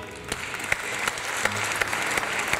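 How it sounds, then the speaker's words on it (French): An audience applauds to welcome a guest onto a Catholic television program, a dense steady patter of many hands clapping with a few sharper individual claps standing out close by. "Veuillez accueillir et applaudir avec moi M."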